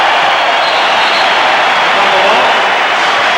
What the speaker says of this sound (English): now the crowd will give the Bulls a standing ovation